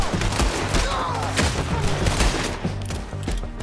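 Dense, continuous video game gunfire in Red Dead Redemption 2, a loud fusillade of overlapping shots and booms with rumbling low end, shouted voices faintly mixed in.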